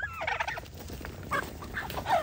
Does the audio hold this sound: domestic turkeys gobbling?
yes